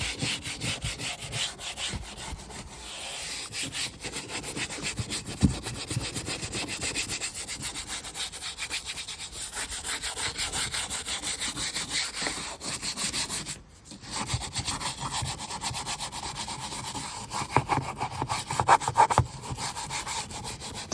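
Brisk back-and-forth scrubbing of a painted interior surface before it is resprayed with cleaner, a continuous rhythmic rubbing close to the mic with a short pause midway and no talking.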